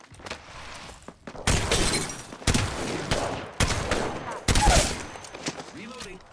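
Gunfire in a battle royale video game, with several loud bursts of automatic shots and sharp shattering impacts separated by brief gaps, and a synthetic announcer voice in places.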